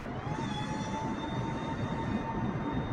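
A simulated airplane engine roars at full throttle with takeoff flaps set, a steady, even drone with a faint whine that holds at a constant level throughout.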